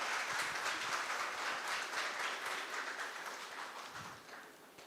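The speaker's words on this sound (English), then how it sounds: "please give a round of applause for our esteemed guests" A hall full of people applauds its guests at a national moot court competition, a dense, steady wash of clapping that gradually tapers off.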